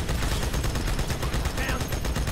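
Rapid turret gunfire in the Halo 2 video game, a dense continuous burst of automatic shots that fills the clip loudly and steadily from start to finish.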